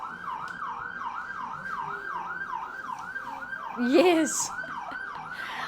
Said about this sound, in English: That was a fire truck. If anyone wondering what that siren was.